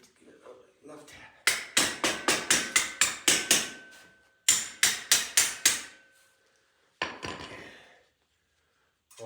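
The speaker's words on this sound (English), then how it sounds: "we have to give it a left tap." Sharp metallic taps drive a pin into a GoPlus lawn mower lift during assembly, a fast burst of about eight evenly spaced strikes, a pause, four more, then a looser cluster, close and loud with ringing decay.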